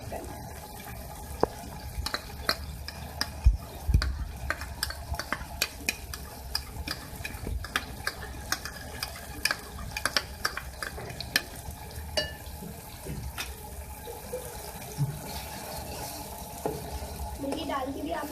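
Beef liver fries in a pan with whisked yogurt stirred through, a steady close sizzle broken by frequent clinks and scrapes of a spoon against the metal, with a few faint splashes of liquid.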